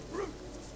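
A rabid zombie dog in the video game Divinity: Original Sin lets out one short, faint bark over quiet game background.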